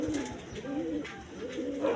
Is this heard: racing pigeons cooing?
yes